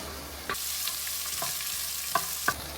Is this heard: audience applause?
no